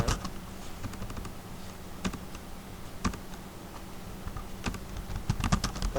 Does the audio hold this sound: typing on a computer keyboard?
yes